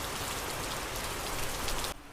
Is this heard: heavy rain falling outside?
yes